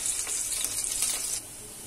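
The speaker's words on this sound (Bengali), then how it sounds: "পেঁয়াজ এটা লাল করে একটু জিরা দিয়ে" Onions browning with cumin seeds in a hot pan, a steady bright hiss of frying that holds for over a second, then drops to a quieter simmer.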